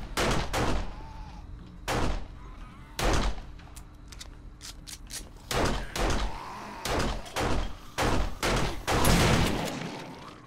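Shotgun blasts in the 7 Days to Die survival video game (Alpha 18), a string of loud, sharp booms fired at irregular intervals over about ten seconds, with quick follow-up shots clustered toward the end.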